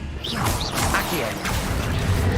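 Spell cast in Hogwarts Legacy: a bright magical whoosh with swishing sweeps and a crash-like burst, heard over busy game effects and a voice speaking, steady and loud throughout.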